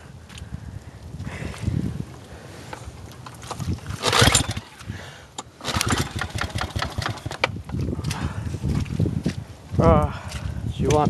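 A go-kart engine is cold-started on half choke, with repeated close bursts of sputtering and briefly catching engine noise between quieter gaps, as a person talks nearby.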